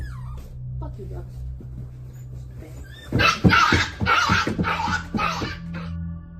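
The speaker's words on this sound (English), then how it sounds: "the dog's frantic whimpers could be captured clearly on her microphone" A small Maltipoo whimpers frantically over a livestream microphone, high thin whines and yelps under a man's loud, angry shouting, with a low steady hum running underneath throughout.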